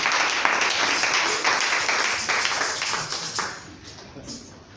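A church congregation breaks into broad, dense applause that holds for several seconds, then thins and fades out toward the end.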